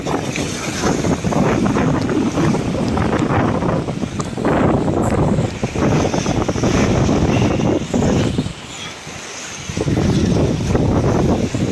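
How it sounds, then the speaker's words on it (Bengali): Strong cyclone winds sweep across the Padma river, hammering the microphone in loud, continuous roaring gusts that ease only briefly near the end. "আর বাতাসের কারণে কথা বলতে খুব সমস্যা হইতেছে"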